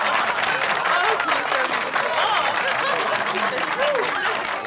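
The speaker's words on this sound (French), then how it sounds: "On peut l'applaudir." Audience applauding a star guest on a French TV-style show, continuous dense clapping and crowd noise at steady volume, with a voice faintly mixed in.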